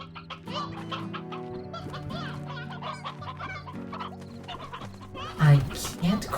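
Chickens cluck repeatedly in the Slime Rancher video game, a busy chorus of fowl calls over steady tonal game music, with a louder burst of clucking near the end.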